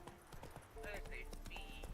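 Roach the horse galloping in The Witcher 3, a steady run of hoof clip-clops close by over game ambience and music, with a voice talking over it.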